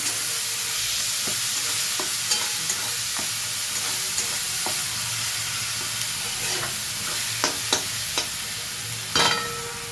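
A paste of ground ginger, onion, garlic and green chilli sizzles steadily in a hot pan, a constant frying hiss broken by occasional sharp spatters and a louder crackle near the end.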